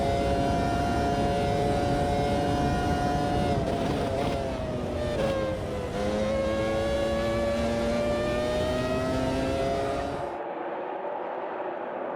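Racing car engine in Automobilista 2 during a 1999 Formula One custom championship at the British Grand Prix, a loud continuous high-pitched wail that rises and falls with gear changes and throttle, alone with no talk, cutting off near the end.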